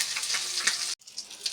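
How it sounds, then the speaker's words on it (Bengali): Panch phoron and dried red chillies hitting hot oil left from frying rui fish, with a loud crackling sizzle that cuts out abruptly, then resumes more quietly with intermittent spits. "এখন এই হিট তেলেই দিয়ে দিচ্ছি এখন 5 ফোড়ন আর শুকনো মরিচ"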